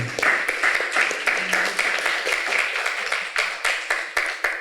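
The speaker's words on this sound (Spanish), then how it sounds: "por favor, un gran aplauso" Applause from a small audience at a literary panel discussion, loose uneven clapping with distinct individual claps pulsing near the mic, loud and continuous without talk.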